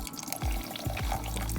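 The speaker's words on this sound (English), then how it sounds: "I've added about 2 teaspoons of flour to some water. I'm gonna go ahead and mix this up real quick." Flour mixed into a small amount of water to thicken turkey neck gravy, with faint pouring and sloshing followed by quick stirring sweeps of liquid, heard close and quiet without speech.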